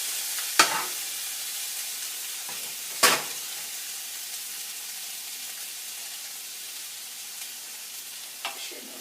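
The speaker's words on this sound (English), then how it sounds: "I'm going to give this a little stir too." Chicken and pasta fry in a pan with a constant soft sizzle. A spoon scrapes and stirs a few times, giving sharp clicks up close, with longer quiet frying stretches between the stirs.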